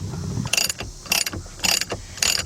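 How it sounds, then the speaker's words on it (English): A 1/2-inch drive ratchet turns a bolt on a Volkswagen Jetta ignition lock cylinder housing, giving four short bursts of loud, close clicking at a steady rhythm with quiet pauses between strokes. "Get you your 1/2-inch drive ratchet."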